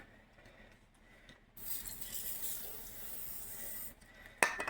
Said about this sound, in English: And you're going to want to spray the inside of the rim.